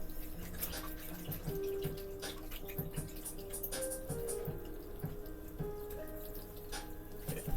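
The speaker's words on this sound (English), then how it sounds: "I keep getting paint on myself from the picture, so have to keep washing off my hand." Tap water runs steadily into a sink while paint is washed off a hand, a constant close splashing stream with small drips and splatters throughout.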